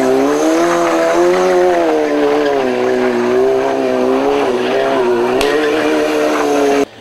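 A motorcycle at a festival, ridden in a stunt show circling spectators, revs loud and close with a wavering, sustained engine whine and tire noise that rises and falls, cutting off abruptly at the end.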